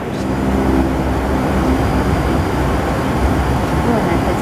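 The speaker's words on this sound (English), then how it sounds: "My first propeller plane." A Flybe Q400 propeller plane taxis on the ground, its steady loud low-frequency engine and propeller drone heard from inside the cabin, a continuous hum with faint background chatter.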